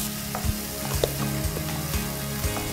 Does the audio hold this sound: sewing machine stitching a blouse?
no